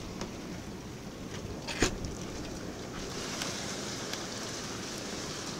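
Tornado storm wind and pelting precipitation roaring through an open door of a house, a steady broad rushing wash with a sharp knock near two seconds and faint impacts scattered throughout, no voices.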